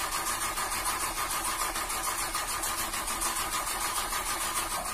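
A car engine cranking and trying to start in the video game GTA V, a steady mid-pitched mechanical churn that runs unbroken and fairly loud for the whole stretch, with no voices over it.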